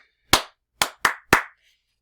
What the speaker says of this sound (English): If I were to clap